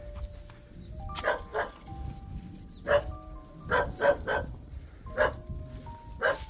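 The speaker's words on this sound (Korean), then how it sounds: "개가 짖고 이러는 거 보니" Dogs bark repeatedly in a mountain village in Korea, several sharp barks and yips spaced across the clip at middle distance, over a low outdoor background rumble.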